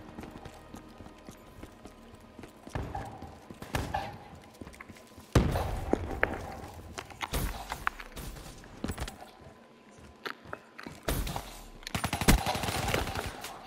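Bursts of rapid gunfire from the video game Call of Duty: Black Ops III, with irregular volleys and loud thumps that come and go over a steady game background.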